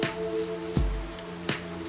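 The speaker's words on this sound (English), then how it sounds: "It's raining." Rain falls at night in the fighting game Persona 4 Arena. It makes a steady, soft hiss with faint sustained background tones and a couple of dull low thumps.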